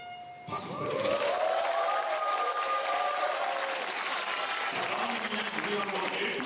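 An audience applauds at a student music concert in Hongcheon, a broad wash of clapping that swells in after a brief pause and continues steadily, with faint sustained tones and a voice mixed underneath.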